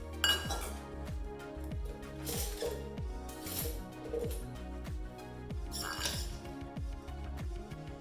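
Eggs cracked one at a time into a bowl, a series of close, sharp taps and clinks repeating roughly every half second against a quiet kitchen background with no talk.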